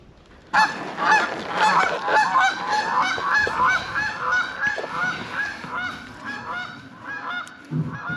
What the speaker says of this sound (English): Geese are loud.